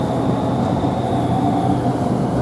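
A high-speed train passes through Ashford International station, giving a loud, steady, broadband rushing roar with a faint high whine held across the whole moment.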